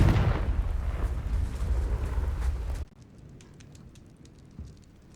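A Confringo blasting spell in Hogwarts Legacy bursts into a loud, roaring explosion that rumbles for nearly three seconds, then cuts off, leaving faint crackling debris and a small thud afterward.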